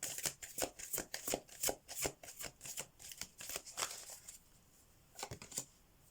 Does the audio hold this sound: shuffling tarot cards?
yes